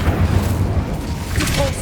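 The Incendio fire spell being cast in Hogwarts Legacy, a deep booming whoosh of flame that swells and rumbles for a moment, loud and close.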